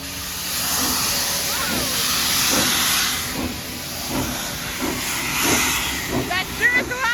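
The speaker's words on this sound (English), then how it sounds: "That sure is a lot of steam." A 1947 Baldwin steam locomotive on the White Pass railway vents a loud, continuous hiss of steam close by, with rhythmic chuffing pulses underneath and people talking over it.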